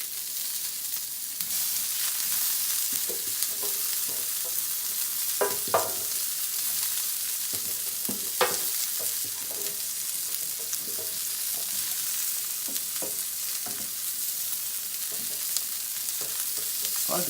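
Asparagus spears laid in smoking-hot oil in a pan, giving a steady close sizzle with scattered crackles, pops and occasional clinks of handling over about seventeen seconds, no talk.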